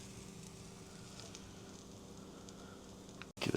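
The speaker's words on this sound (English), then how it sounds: "It's not sizzling quite as loud" Sandwich spread with mayo sizzling in a pan, a quiet, steady crackling hiss that continues alone before a brief clatter at the end.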